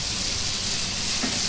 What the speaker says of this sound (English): Let's get those tomatoes nice and seared up.